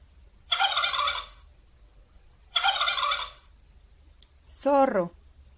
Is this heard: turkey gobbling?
yes